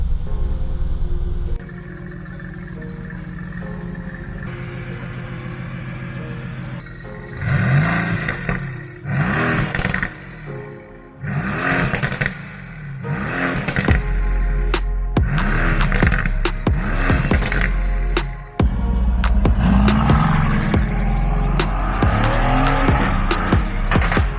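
A Mercedes-AMG GT S engine starts with a low idle rumble, then revs repeatedly and loudly while driving, rising surges and gear changes filling the foreground with no talking.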